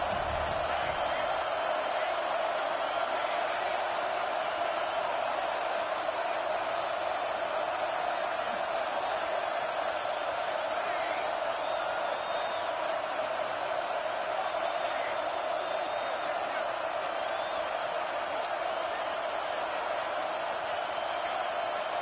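Steady roar of a big stadium crowd at a college football game between the Ducks and Bama, a dense continuous wash of cheering and noise that holds at the same level throughout.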